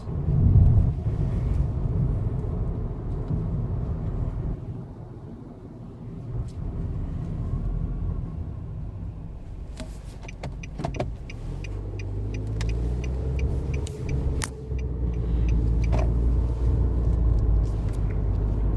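Interior of a 2016 Nissan Versa Note SR driving on the road: a steady, low road and engine rumble fills the cabin, with a run of light ticking clicks partway through and no one speaking.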